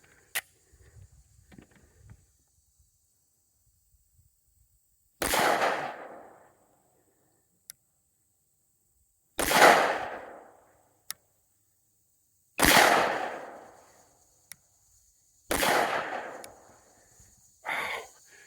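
A Mossberg MC1sc compact 9mm pistol fired outdoors, five sharp loud shots spaced a few seconds apart, each ringing with a short decay, with faint talk and small clicks between shots.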